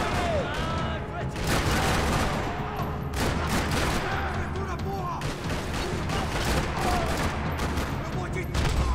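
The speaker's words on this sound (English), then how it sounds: "Another parking lot rattling with gunfire." Dense, continuous gunfire from the video game Max Payne 3, played on an Xbox Series S, in a parking lot shootout. Rapid overlapping shots and bursts rattle loudly throughout with no pause and no talk.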